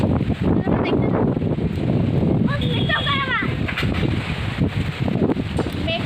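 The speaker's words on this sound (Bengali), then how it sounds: "তোমরা দেখতেই পাচ্ছ যে এখন কত জোরে ঝড় উঠছে।" Strong gusting storm wind roars and buffets the microphone with low rumble, while a voice speaks over it and birds chirp faintly in the background.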